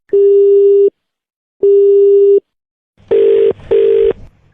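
A phone call cut off and followed by a telephone busy tone: two long, loud, steady electronic beeps with gaps, then two shorter, harsher beeps close together.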